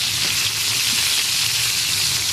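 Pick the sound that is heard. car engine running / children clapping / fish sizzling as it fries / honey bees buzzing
fish sizzling as it fries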